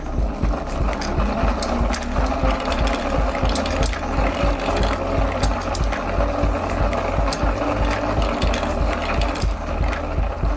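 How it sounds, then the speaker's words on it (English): Two marble machines driven by a homemade generator gearbox, a loud continuous mechanical rattle of clicking gears and rolling marbles with a steady low hum underneath. "So it looks like it has no issue at all running both marble machines."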